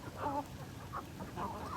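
A few soft, quiet clucks and short calls from chickens, close by and intermittent, with low background murmur.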